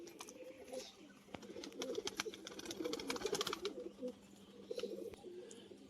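Flying pigeons coo in soft, repeated low murmurs close by, with light clicks and rustles in a quiet setting.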